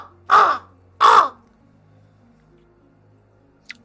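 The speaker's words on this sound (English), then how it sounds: "The ravens." A raven gives two loud, harsh caws about half a second apart, each close and distinct, followed by quiet background and a faint brief click near the end.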